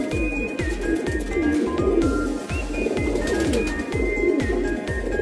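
High-flying breeder pigeons coo in a steady, repeating rhythm of low, throaty calls, close and clear, with faint bird chirps in the background.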